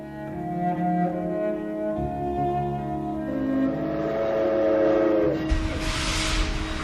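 A train on a railway line, its horn sounding in long, sustained, layered tones over a low rumble that swells toward the end, loud and unaccompanied by any voices.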